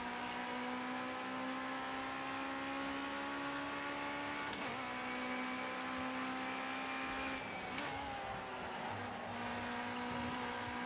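Race car with a Ford Duratec engine in Project CARS 2, a steady loud engine drone holding a constant pitch, with brief shifts and gear changes around the middle and near the end, and no voices.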